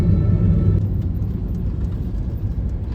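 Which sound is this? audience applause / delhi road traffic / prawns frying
delhi road traffic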